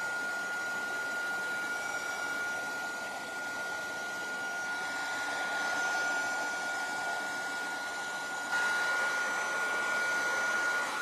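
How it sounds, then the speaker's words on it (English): Layered paper flowers get dried with a heat tool or dryer, its steady whooshing roar running loud and continuous throughout, with no talking. "I'm gonna make some noise and try to just dry them a little bit"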